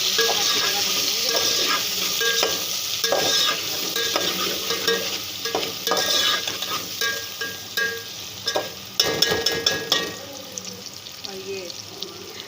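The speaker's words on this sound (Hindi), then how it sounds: "अच्छी तरह भूनेंगे।" Chopped tomatoes fry in a pan with browned onion and garlic for a Pakistani daal mash, a steady sizzle broken by repeated spoon scrapes and stirring knocks, with occasional faint talk.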